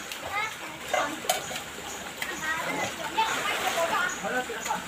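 Children swim and splash in a clear river, with scattered splashes and sloshing water under children's chatter and shouts.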